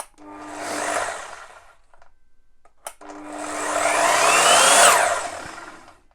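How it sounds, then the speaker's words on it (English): An Evolution R255SMS-DB+ 255mm double bevel sliding mitre saw spins up gently with its soft start and winds down quickly under its electronic brake, then a second, longer run swells and fades again. "there's a nice slow start, which to me is like, oh yeah, that's nice, that's professional. But also is electronic brake on it, so it slows down very,"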